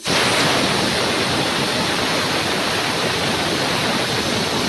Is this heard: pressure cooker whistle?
yes